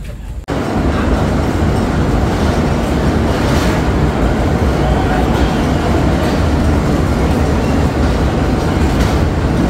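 Nilsagar Express passenger train running on the Parbatipur to Rajshahi route at night, a loud, steady rumble and rattle of the moving carriage filling the whole span after a brief quiet start.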